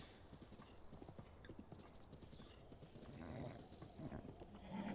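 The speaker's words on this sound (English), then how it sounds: "You got yourself an ornery horse, Rich." Horse hooves clip-clopping in Zelda: Breath of the Wild, a faint, quick run of thuds from an ornery horse, with a snort or whinny-like call near the end, quiet throughout.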